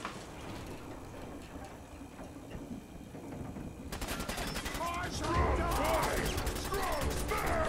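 Enemies fire pipe guns in the video game Fallout 4. Muffled game noise and a voice give way to dense, rapid bursts of loud gunfire, close and continuous through the second half.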